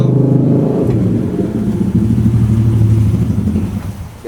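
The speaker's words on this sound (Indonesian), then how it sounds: "Sebentar ada motor lewat." A motorcycle passes close by, its loud engine droning steadily with a low rumble and a slight rise in pitch before fading a little at the end.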